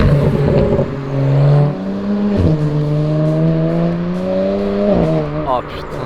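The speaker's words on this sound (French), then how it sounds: "le bruit d'une 335 N54 DKG" A BMW 335i with the N54 engine and DKG gearbox revs hard, rising through several quick upshifts with sharp breaks between gears, loud and close, alongside excited talk.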